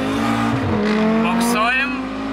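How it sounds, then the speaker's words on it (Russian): An Audi RS Q3 with a tuned five-cylinder engine spins its wheels on launch, engine roaring and tires squealing loudly up close, while voices talk over the noise. "Буксуем."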